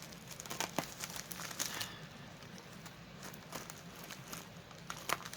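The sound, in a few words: opening a plastic-wrapped package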